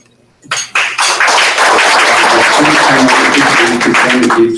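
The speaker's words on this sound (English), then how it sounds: "A big round of applause for our dear musician, please." Applause from an audience at a Rotary club meeting in Taichung, rising quickly after a brief pause into steady, dense clapping that stays loud and close throughout, with a few faint voices underneath.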